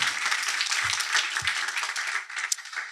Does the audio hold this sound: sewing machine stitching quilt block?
no